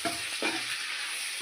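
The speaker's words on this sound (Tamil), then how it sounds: "இன்னும் கொஞ்சம் வதங்கணும்." Mushroom biryani ingredients sizzle and are stirred in a pan, a continuous close frying hiss with a couple of brief scraping stirs.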